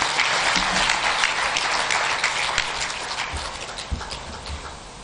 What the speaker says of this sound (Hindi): जोरदार तालियां एक बार और मिलन जी के लिए